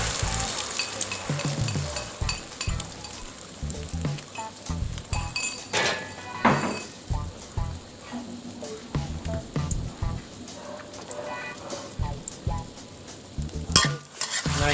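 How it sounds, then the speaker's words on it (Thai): Beaten eggs with naem, a Thai sour pork sausage, frying as an omelette in hot oil: loud crackling sizzle mixed with repeated clinks and scrapes of a utensil against the pan, in irregular bursts. "ใส่ไข่เจียวที่เราเตรียมไว้ลงไปเลยนะครับ"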